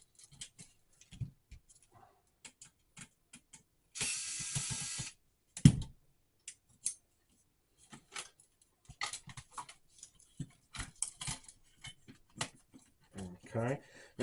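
Screws are removed while taking apart a fat black PlayStation 2 console, heard as scattered small clicks and ticks, up close, with one brief rasping burst and occasional quiet speech.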